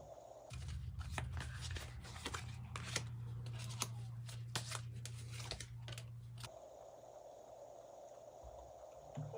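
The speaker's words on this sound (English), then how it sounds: "Let's try to shuffle this ridiculously hard to shuffle deck." A deck of cards is riffled and shuffled in quick rapid bursts for several seconds, close up, then stops to quiet room tone.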